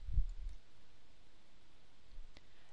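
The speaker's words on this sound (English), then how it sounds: "Click here." A computer mouse button clicks as a web link is selected: one sharp click at the start and a fainter one near the end, separated by quiet room hiss.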